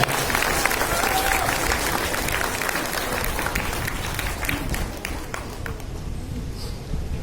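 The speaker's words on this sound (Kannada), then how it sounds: "ಜೋರಾದ ಚಪ್ಪಾಳೆಯೊಂದಿಗೆ" Loud, sustained applause from an audience at a Kannada Rajyotsava celebration held by an accountants' association, a dense wash of clapping that carries on steadily and begins to thin near the end.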